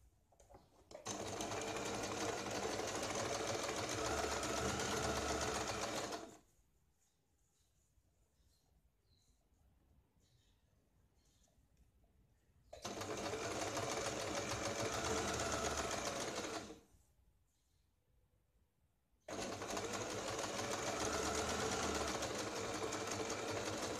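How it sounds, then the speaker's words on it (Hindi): A sewing machine stitches a straight seam on a 38-inch katori blouse, running loud and steady in three long bursts separated by quiet pauses. "यहाँ पे हम सीधी सीधा सीधी सिलाई लगाते हैं"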